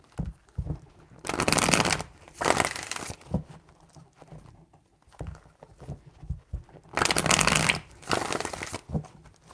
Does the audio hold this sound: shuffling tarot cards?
yes